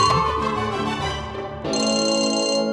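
A phone rings loudly with a repeating electronic ringtone melody that shifts to a brighter, busier pattern partway through, with no voices over it, in a Hindi television drama scene set late at night.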